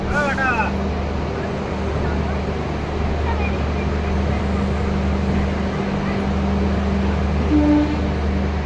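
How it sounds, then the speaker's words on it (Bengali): Gour Express train pulling into Sealdah station on a cold winter night, a steady low rumble of wheels and engine drone with a sustained horn-like tone, crowd babble and a voice in the background. "অবশেষে ট্রেন তার ডেস্টিনেশন শিয়ালদা স্টেশনে এন্টার করছে"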